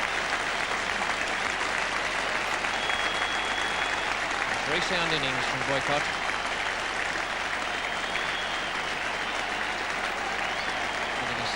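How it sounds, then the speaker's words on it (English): A cricket crowd at the 1977 England v Australia Test at Headingley gives a sustained standing ovation for a batsman's half-century, steady broad applause filling the background while a commentator speaks over it. "Getting a standing ovation for his half-century"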